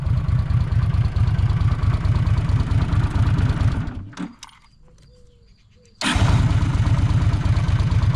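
A Honda GL500 motorcycle engine with rebuilt carburetors idles with a steady low putter, cuts out briefly into near quiet, then roars back to a loud, even idle around 1,000 rpm.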